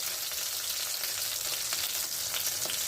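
Garlic and asafoetida sizzling in a pan of hot oil, a steady, bright crackle with scattered pops, close and continuous with no talk.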